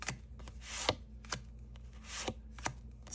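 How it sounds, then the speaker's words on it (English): Overhand shuffling of a deck of playing cards, soft papery swishes and riffling bursts repeating in an irregular rhythm, close and quiet with no talking. "like when you're overhand shuffling it"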